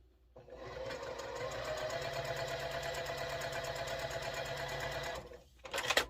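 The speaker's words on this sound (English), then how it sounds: "I'm just going to top stitch 1/8 inch along the side on both sides" A sewing machine top stitches fabric 1/8 inch from the edge of a small fabric sticky note case, running steadily at close range for about five seconds, then stopping with a brief clatter.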